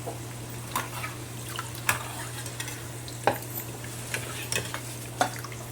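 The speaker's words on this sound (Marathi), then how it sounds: "अशा पद्धतीने सर्व भजी मी तळून घेणार" Potato bhaji frying in oil, a soft bubbling sizzle under a low hum, punctuated by several sharp clinks and scrapes of a utensil against the pan.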